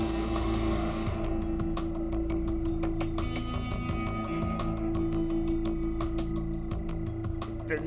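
A car drives along, its engine drone steady and loud under repeated sharp clicks and tire noise across the whole stretch, with no talking.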